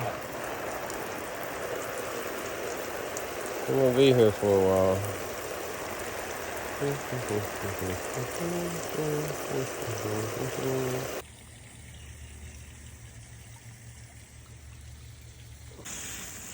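Water pours steadily from a hose into a lined fish pond, a continuous splashing rush with someone speaking briefly over it before the sound cuts to a quieter background.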